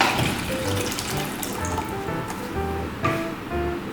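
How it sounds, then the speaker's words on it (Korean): About 500 ml of water pouring into a pot for sea urchin ramen: a steady, close splashing stream with bubbling, gurgling tones, heard alone with no talking. "물 500ml를 부어줍니다."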